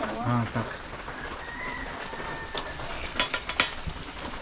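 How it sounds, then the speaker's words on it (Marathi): Spices frying in a pan for a crab curry with onion and tomato, a continuous close sizzle with a few clattering stirs and a brief voice at the start. "मसाले टाकून घेते"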